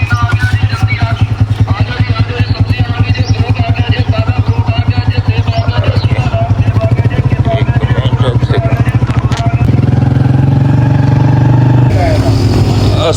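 A motorcycle engine idles close and loud with a steady rapid thumping pulse for the whole stretch, its tone shifting slightly near the end, with voices talking over it.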